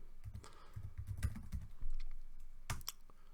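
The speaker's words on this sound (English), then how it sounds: "So I'm just going to type in" Someone types on a computer keyboard while entering a profile name during a Minecraft server setup, a quick, uneven run of close, crisp key clicks.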